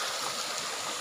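A river stream flows steadily at Pasong Buhangin near Tibagan Falls, a continuous broadband rush of water, close and fairly loud, with no voices.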